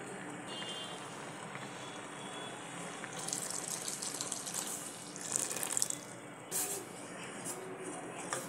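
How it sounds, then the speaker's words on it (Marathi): Heated milk pouring into cooked sabudana kheer, a steady liquid splash and trickle running throughout at low level, with brief louder gushes partway through. "आता त्यामध्ये मी गरम केलेलं दूध घालते"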